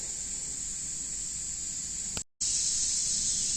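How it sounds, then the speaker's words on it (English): A steady, loud spray of Gorilla aerosol adhesive hisses close up, cutting off briefly for a split second before resuming just as strongly. "I'm going to be using the Gorilla spray adhesive"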